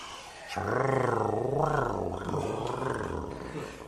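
An actor playing Bottom in a BBC Radio 3 production of Shakespeare's A Midsummer Night's Dream imitates a lion with his voice, a long, loud, wavering roar that rises and falls for several seconds with no other sound.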